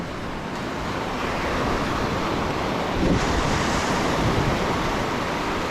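Big ocean waves roar and wash in continuously on a Philippine shore, loud and close, with wind buffeting the microphone and a surge swelling midway.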